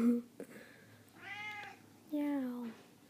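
Pet cat meowing close by, two drawn-out meows in a quiet indoor room, the second louder, with a person speaking briefly before them.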